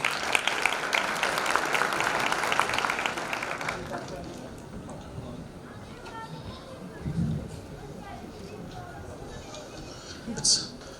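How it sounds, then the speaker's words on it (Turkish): Audience applause welcoming a speaker onto the stage at a national management informatics summit, a steady close wash of clapping for about four seconds that then fades to quiet room noise with a few faint thumps. "Alkışlarla sahneye davet ediyoruz."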